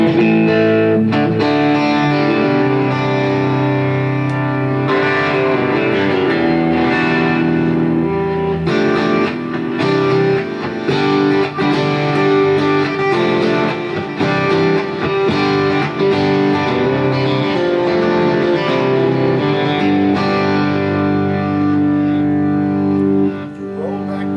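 Electric guitar played through an amp with a warm, slightly overdriven blues tone, a continuous run of sustained notes and chords with no talking.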